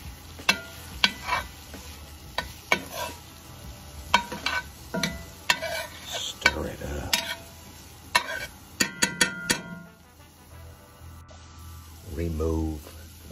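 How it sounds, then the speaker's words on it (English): Vegan alfredo sauce of olive oil, garlic and vegetable broth is stirred in a pan, with sharp scraping clicks and utensil knocks at an irregular pace, a soft sizzle beneath, and brief voices near the end. "Stir it up."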